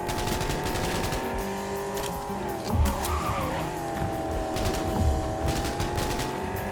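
Car engine drone in a Cyberpunk video game race, with tires skidding and squealing, two thumping impacts, and a steady, loud whine throughout.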